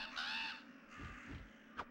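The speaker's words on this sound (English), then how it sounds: "Come here, crow." A crow in the video game Resident Evil gives a pair of quiet caws, then a short sharp call near the end, with no talking.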